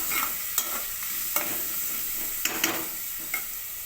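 Onions fry in a pan for an alasandalu tomato curry, giving a steady sizzle broken by sharp scraping clicks from a spoon stirring at irregular intervals, with no voices.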